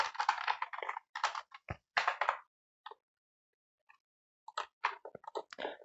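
Bursts of quick, close clicky keystrokes on a computer keyboard while a code comment is typed, with short pauses and near silence between flurries.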